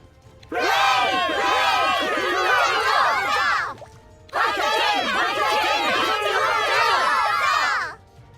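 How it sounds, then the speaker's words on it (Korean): A stadium crowd in the game Closers cheers and shouts in two long, loud bursts, each lasting about three seconds, with many overlapping voices and a brief pause between them. "관중석에서 모두 저희를 응원해주고 있어요."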